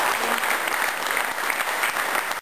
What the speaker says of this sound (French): Le premier applaudissement que j'aimerais que vous donniez, c'est pour tous les bénévoles qui ont œuvré aujourd'hui